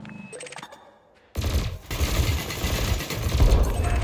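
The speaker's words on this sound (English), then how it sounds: "Your cannon will automatically reload until the ammunition supply runs out. Meanwhile, your laser will fire until the capacitor is depleted," Ship cannon and laser weapons firing in the space game Elite Dangerous: a quiet mechanical lead-in, then a sudden loud burst of sustained rapid gunfire that keeps building to the end.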